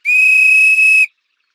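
A single sharp, shrill referee's whistle blast in a cartoon football match, loud and sustained for about a second before cutting off cleanly into silence.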